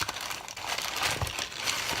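Packing paper from a book order crinkles and rustles steadily up close, a continuous dry crackling as it is handled, with no voices.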